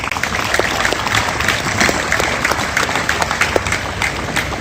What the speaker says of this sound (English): Let's give a round of applause for our AMET cadets.